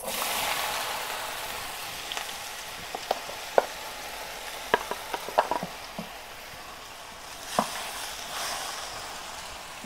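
Nopales cactus paddles fry in a hot clay pot, a steady sizzle with scattered sharp pops and crackles, close and fairly quiet, no talking.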